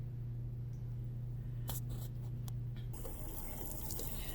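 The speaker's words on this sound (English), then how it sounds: "I'm just going to let the water run" Tap water runs steadily through a rice strainer in a kitchen sink with a low hum, punctuated by a few sharp clatters, then the flow changes to a brighter, splashier rush; no voices.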